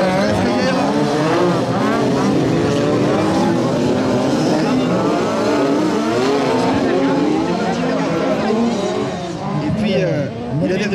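A race car at a supersprint event restarting after a slip, its engine revving loudly and climbing through gears with continuous close roar, while a commentator talks over it.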